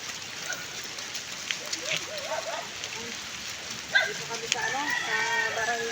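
Steady rain patters on surfaces outdoors, continuous and fairly close, while people talk and some tonal sounds rise over the downpour toward the end.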